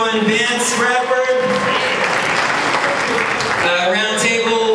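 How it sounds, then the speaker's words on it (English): Comedy club audience applauding steadily and loudly throughout, a continuous wash of clapping with a voice talking over it at the start and end. "One more round of applause, please."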